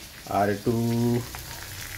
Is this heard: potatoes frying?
yes